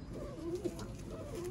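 A Sialkoti pigeon, a blue-eyed show bird, gives soft throaty coos in two short bursts close by, against a quiet room background.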